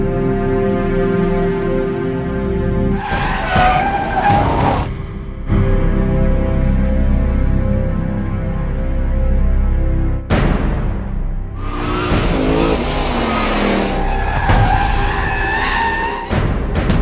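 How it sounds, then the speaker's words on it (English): A powerful Mercedes SL63 AMG engine roars steadily on a track while tires screech in long squealing bursts as it slides, the squeals rising and falling over the engine. "the amazing shot of Narain sliding the SL63 AMG"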